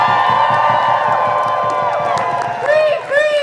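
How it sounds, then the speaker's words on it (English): A crowd at a pro-Palestine protest rally in Minnesota cheers, whoops and claps loudly and continuously, with shouting voices and a speaker's voice over the noise. "Give them another round of applause."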